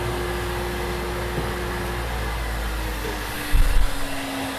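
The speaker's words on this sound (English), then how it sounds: "my wife blessed me with a hair dryer, which works really awesome in the strainer" A hair dryer blows over freshly roasted coffee beans in a strainer, with a steady whooshing drone and faint whine, joined near the end by a brief low rumbling clatter.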